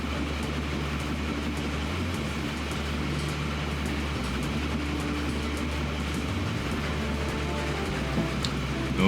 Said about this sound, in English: Yes, train number 11 is on its way.